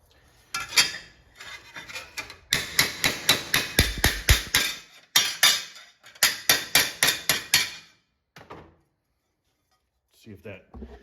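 A hammer strikes and shapes the sheet metal of a 1964 Chevy Impala fender, sharp metallic blows landing in quick rhythmic bursts of several strikes, separated by short pauses, with brief quieter handling at the end.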